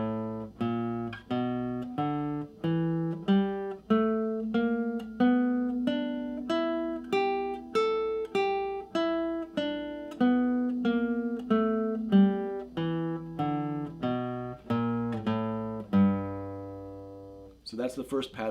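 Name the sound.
guitar playing the E blues scale, first pattern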